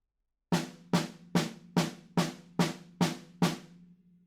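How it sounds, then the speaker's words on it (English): A drum kit snare is struck eight times in even steady quarter notes, each hit a sharp crack with a short ringing decay, close and clean with nothing else sounding. "we're just playing 4 snare drums to the bar"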